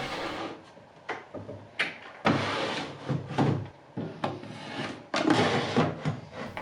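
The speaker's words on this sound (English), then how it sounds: "Throw the drawers in." Wooden drawers slide into an antique serpentine dresser: several wooden scrapes and sliding rubs in quick succession, with soft knocks between them, close and fairly loud, no talking.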